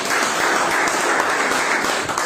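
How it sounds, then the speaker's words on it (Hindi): Loud, continuous clapping from a seated academy audience, a thick even roar of many hands filling the room with no pauses. "आप अपने लिए तालियां बजाएं जोर से"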